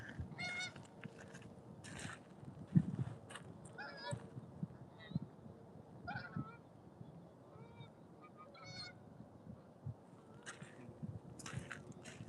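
Geese honk repeatedly overhead by the Mississippi River, a scattered series of nasal calls rising and falling over a low outdoor rumble, some calls louder and nearer than others.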